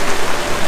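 Rain falls in a steady, dense hiss on a rainy day at EPCOT, loud and close for a brief moment with no voices.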